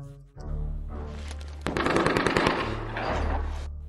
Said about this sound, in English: it turned out to be the sound of a shootout